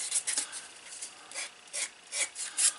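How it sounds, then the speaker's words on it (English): Rhythmic rasping strokes of 220 grit wet and dry sandpaper rubbing over the edge of a leather card wallet, one direction at a time, about half a dozen short scrapes close up, with no talking. "I'm only going to go in one direction with my sandpaper now."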